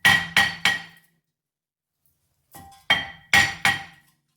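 Metal hammer blows strike a stuck brake rotor on a 2015 Dodge Caravan during a wheel bearing job: three sharp ringing hits, a pause, then a softer tap and three more loud clanging strikes, close and without talk.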